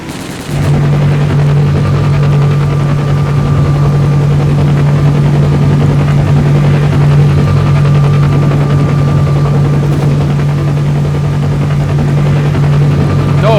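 A helicopter in STALKER Call of Pripyat drones loudly and steadily with a constant low rotor hum, starting abruptly and holding unchanged throughout, with no voices.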